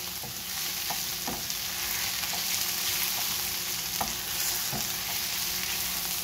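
A creamy mushroom chicken mixture is stirred in a hot pan, a steady close sizzle broken by spoon scrapes and soft clicks at irregular intervals, with no voices.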